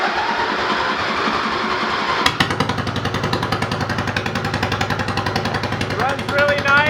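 A Derby lawnmower's small gas engine pops into life about a third of the way in and then runs at a steady, loud, rapid chug close by, with a brief rise in pitch near the end.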